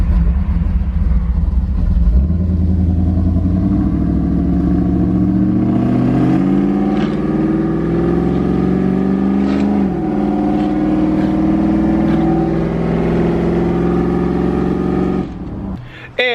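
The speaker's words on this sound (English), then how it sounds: "Boy, did I forget how obnoxious this truck is." A loud pickup truck engine revs up and holds a rising, rumbling roar for several seconds, the pitch climbing and then settling before cutting off abruptly near the end, close and dominant with no talk over it.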